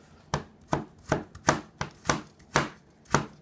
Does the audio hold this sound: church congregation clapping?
no